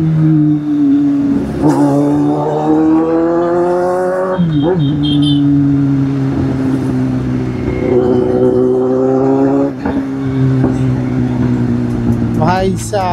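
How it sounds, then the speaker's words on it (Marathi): Road traffic on a night ride home, with engines droning and rising in pitch as vehicles accelerate close by, steady and loud throughout the clip. "भाई साहब काय ट्रॅफिक आहे."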